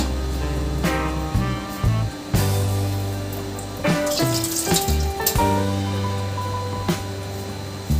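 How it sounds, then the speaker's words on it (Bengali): Water is poured into a Bengali shukto vegetable curry in a cooking pot, a close, continuous splashing and trickling that ebbs and surges in a few uneven bursts, with no voices. "এতটা মাপ মতো জল দিতে হবে একটু জল লাগবে"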